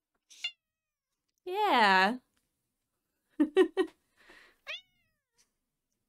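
A pet cat named Harvey gives a few short, close meows, one longer drawn-out cry and some quick chirps, spaced out across near silence, with a person briefly talking.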